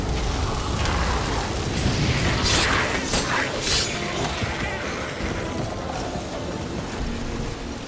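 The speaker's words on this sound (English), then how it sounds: "A magic explosion of some sort." A magic explosion in the video game The Witcher 3 fills the scene with a dense, sustained roar and rumble, marked by a few sharper bursts near the middle, loud throughout and without speech.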